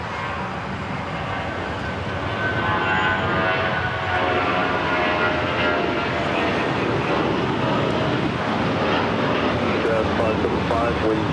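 A jet airliner takes off from runway 25 right at LAX, giving a loud, steady broadband roar that builds slightly and holds throughout, with voices talking underneath.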